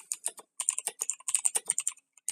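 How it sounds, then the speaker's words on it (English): Quick bursts of clicking keystrokes on a computer keyboard, close and crisp, in uneven rapid runs with short pauses, no talking. "you're typing right here"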